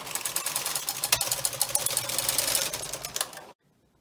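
A double-bed knitting machine carriage pushed across the needle bed for a zigzag row at zero tension, a close rapid clicking and clattering that runs for a few seconds and then stops abruptly into silence.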